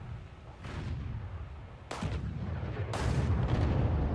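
Ship guns fire in the naval battles of the War Thunder video game, three sharp booming shots spaced about a second apart over a low rumbling background.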